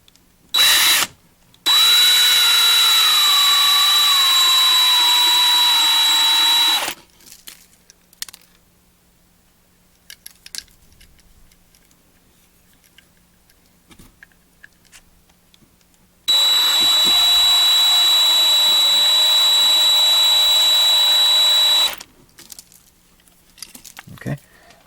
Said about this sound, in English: All right, let's drill it out and see what we can see.